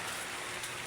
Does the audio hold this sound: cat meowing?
no